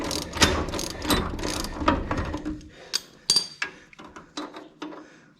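A ratchet wrench clicks steadily while body bolts are run down on a 1955 Chevy frame in a home shop, a fast close run of metallic pawl clicks followed by slower, separate ratcheting bursts.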